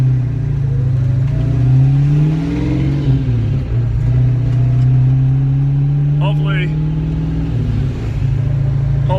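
A Foxbody Mustang with a swapped 408 Clevor V8 and its air intake tube removed rumbles loudly at a drag strip, its engine note rising and falling through revs as someone talks nearby.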